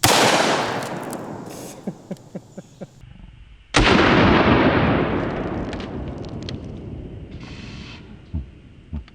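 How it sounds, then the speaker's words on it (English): An HK P2A1 flare gun fires twice, each a loud, close blast with a long decaying echo, separated by a few seconds with faint small knocks and rattles in between. "I've always wondered how effective these flare gun barrels are"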